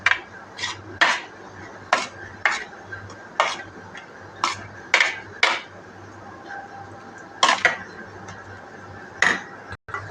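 A spoon mixes tomato, garlic and red chilli for chutney in a bowl, clinking sharply against the side in an irregular rhythm of around fifteen close, crisp taps over soft scraping.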